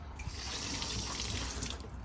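Water running off the freshly washed hood of a BMW X5 diesel, a steady close splashing trickle with a soft hiss, continuous and alone without talk.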